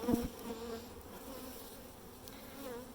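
Honey bees hum around an open hive during re-queening, a faint, continuous buzz close by with a brief louder knock at the start and no voices.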